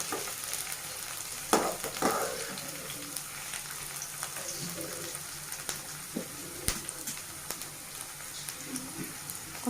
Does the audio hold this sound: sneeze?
no